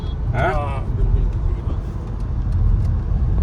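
A 2026 Skoda Kushaq on the move gives a low, steady rumble of road and engine noise inside the cabin, with a short whistle-like sound early on and someone talking throughout.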